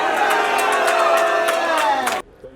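A large outdoor crowd cheers and shouts loudly at a political campaign rally in Ikorodu, Lagos, a dense roar of many voices that cuts off abruptly near the end.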